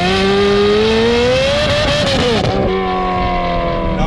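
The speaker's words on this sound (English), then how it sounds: "it's been fitted with a full IPE exhaust system" Ferrari F430 Spider fitted with a full IPE exhaust revs loudly up close, a sustained rising engine howl that dips briefly and then settles into a steady high-rpm drone.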